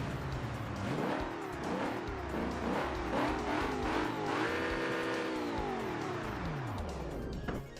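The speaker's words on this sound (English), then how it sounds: "there is an application where you can create custom engine sounds" A Group B rally car in the BeamNG driving game, fitted with a custom engine sound, revs hard through rapid gear changes, then holds a long rising scream before settling, loud and continuous without talk.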